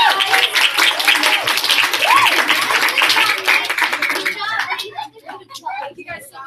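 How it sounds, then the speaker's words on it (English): A small group claps and applauds during a live-streamed birthday gathering, mixed with loud talking and children's voices. The clapping thins out toward the end. "So number one, round of applause for you guys."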